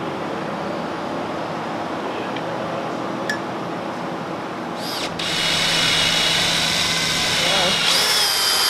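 A power drill whirs loudly and steadily after a short stretch of quieter activity, running continuously to the end, drilling while building a resin river desk.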